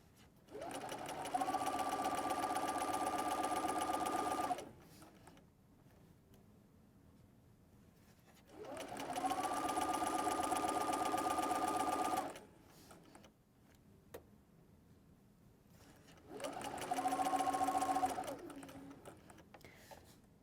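A sewing machine stitches a soft baby blanket in three loud, steady runs of several seconds each, broken by quiet pauses between them.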